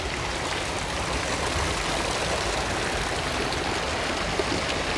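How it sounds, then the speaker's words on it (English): Water pours steadily from a vase fountain into the Long Water in Kensington Gardens, a continuous close splashing rush like a small waterfall, loud and unbroken with no talking. "just looking at the water as it pours out of the vase"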